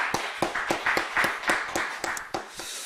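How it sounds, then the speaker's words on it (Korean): A church congregation claps together during a Sunday afternoon worship service, a loud, even run of about ten sharp hand claps in a quick steady rhythm, with no talking. "하나님께 우리 영광의 박수 한번 올려드리겠습니다"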